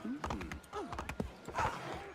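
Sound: horse hooves clip-clopping in video game Assassin's Creed III

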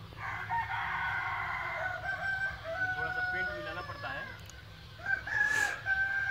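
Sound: Kadaknath roosters crowing on a nearby farm

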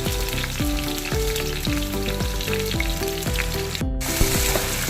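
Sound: sautéing cinnamon, dried chili, garlic, cashews, fennel, cumin in pan

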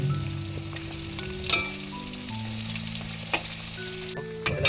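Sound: potatoes frying in hot oil in a wok

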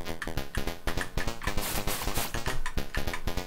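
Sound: shooting in a Commodore 64 video game

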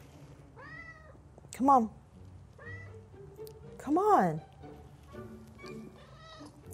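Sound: cat meowing

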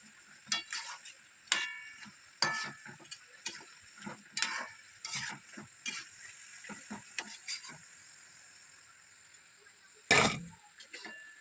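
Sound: frying pithe (pitha) in pan

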